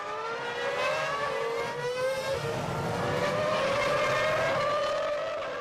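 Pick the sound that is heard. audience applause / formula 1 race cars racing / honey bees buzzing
formula 1 race cars racing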